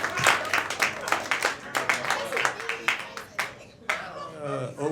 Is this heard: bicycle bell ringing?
no